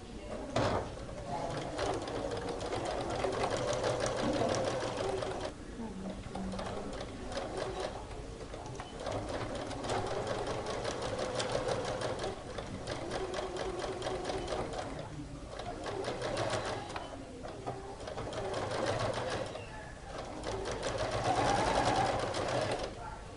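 A sewing machine stitches a rounded portfolio-style pocket, its rapid motor-driven chatter running in long bursts separated by short pauses. The bursts are moderately close and steady in pace, with no talk over them.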